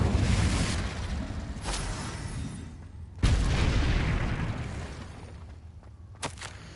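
Confringo blasting curse exploding in a Harry Potter video game: booming blasts with sharp onsets, a strong burst near the start, another big hit midway, and a brief crack near the end, decaying rumble between.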